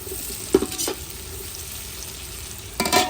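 Vegetables including carrot sizzle steadily in a pan for gobi fried rice, with a few brief scraping strokes of a spoon stirring them, close and fairly quiet.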